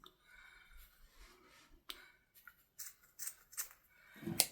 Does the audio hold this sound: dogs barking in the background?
no